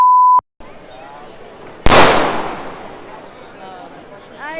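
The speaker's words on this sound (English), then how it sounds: "people walking around letting off firecrackers everywhere" A firecracker goes off in a street during Las Fallas in Valencia, one sharp loud bang that decays over a couple of seconds, preceded by a brief beep, with faint background voices.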